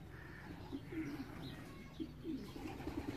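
A racing pigeon coos on arrival after a 309 km race from Olsztyn, a few soft low coos repeated in short bursts over steady outdoor background noise.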